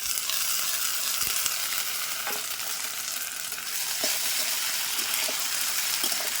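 Ground onion, ginger and garlic spice paste frying with browned onions in a pan, giving a broad steady sizzle with scattered scraping stirs and no talking.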